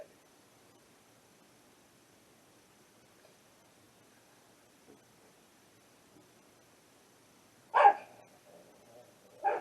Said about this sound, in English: Barking, barking, barking, barking, aren't you?